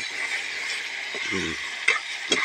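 Food fries in a pan over a fire at home, giving a steady, close sizzle with a few brief scrapes and clinks from a stirring utensil.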